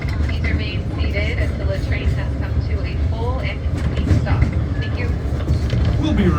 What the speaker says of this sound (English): wait for the train to come to a full stop